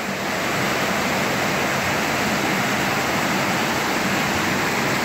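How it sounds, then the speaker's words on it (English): An underground river flows loudly through a cave, a dense, unbroken rushing roar that fills the whole clip with no other sounds or voices. "the river is moving kind of loud"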